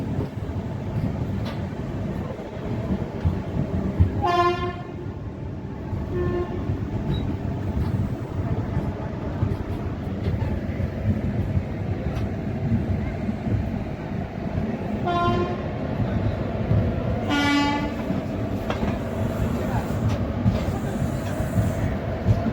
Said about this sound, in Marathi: 4:53 परळी वैजनाथ रेल्वे स्टेशनवरून आपली ट्रेन निघालेली आहे